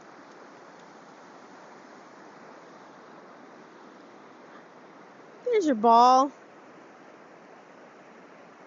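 A river flows as a soft, steady rushing wash at a distance, with a brief spoken phrase rising over it near the middle.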